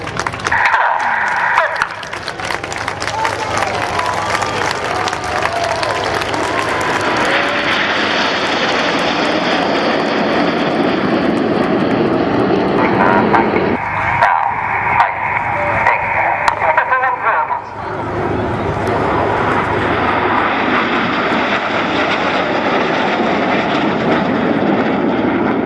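Red Arrows display jets roar overhead at an air show. A loud, sustained engine rush swells and shifts as the formation passes, under a public-address commentary voice.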